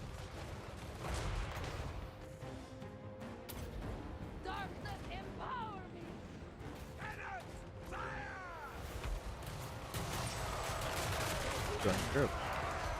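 Units in Total War: Warhammer open fire in a battle, sharp gunshots and volleys crackling amid busy battle noise, with whistling projectiles and a voice talking over the fighting.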